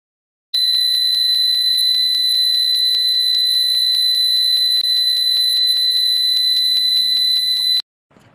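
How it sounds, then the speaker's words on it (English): A security trip-wire alarm's buzzer sounds a loud, steady high-pitched electronic tone continuously for several seconds, then cuts off abruptly. "the buzzer will be producing the sound"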